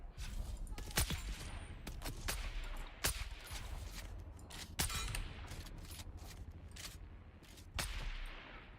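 Scattered video game gunshots crack out at irregular intervals, sharp and fairly close, over a steady low background hum, with a few faint other shots between the louder ones.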